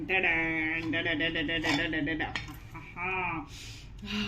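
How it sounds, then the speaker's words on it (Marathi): A cooled pressure cooker of egg biryani is opened in a home kitchen, with clinking metal lid and pot sounds close by while someone talks over them. "आता आहे ना कुकर गार झाला ना ओपन करते"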